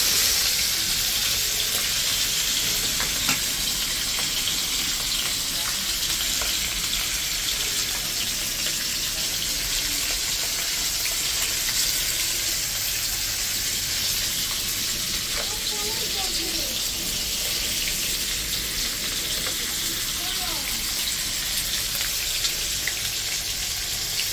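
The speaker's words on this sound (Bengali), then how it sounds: "এইভাবে সবগুলি মাছ ভালো করে ভেজে নেবা" Hilsa fish coated in salt and turmeric frying in a pan of hot oil, a steady, even sizzle that holds throughout without a break.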